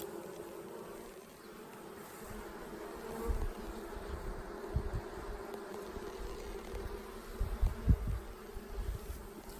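Honey bees buzz around the entrance of a hive, a soft, steady drone with occasional closer individual bees swelling louder as they fly past.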